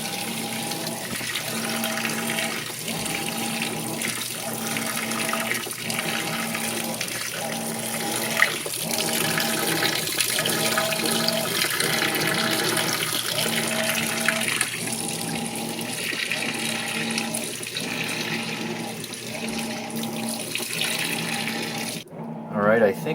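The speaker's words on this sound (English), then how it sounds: "it's still adding water." Whirlpool Cabrio WTW7000 top-load washer filling with water, a steady rushing flow with a faint rhythmic pulse repeating every couple of seconds, continuous and moderately loud throughout before a brief clunk at the end.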